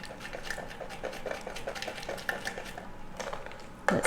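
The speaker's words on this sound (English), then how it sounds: "Let's stir that all up." A spoon stirring French fried onions into a green bean casserole, soft repeated scraping and clinks against a dish close by, ending with a sharper knock.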